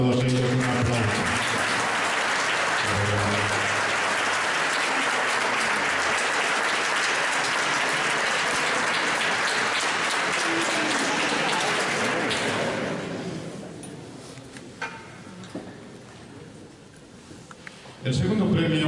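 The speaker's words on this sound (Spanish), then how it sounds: "Rosa, para ti y para todos ellos, un aplauso." Audience at a poetry awards event breaks into broad applause, a thick continuous patter of many hands lasting over ten seconds before fading out, with some speech in the room around it.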